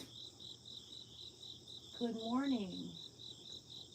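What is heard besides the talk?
crickets chirping at sunrise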